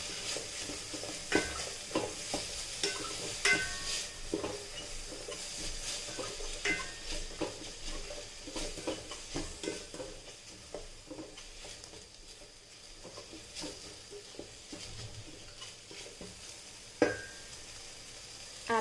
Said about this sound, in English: stir it all.